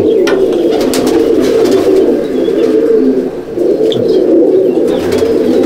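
Pigeons coo steadily in a loft, a dense low murmuring chorus of several birds carrying through the whole stretch with a brief dip midway, with no talking.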